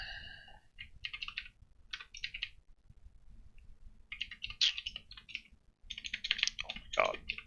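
Bursts of rapid computer keyboard typing in Emacs, clicky and close, come in uneven clusters separated by short pauses.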